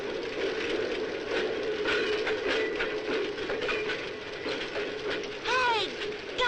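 A train runs steadily on its rails, making a continuous clattering, ratcheting rumble with some high squealing partway through, all set in an old Gamera monster film.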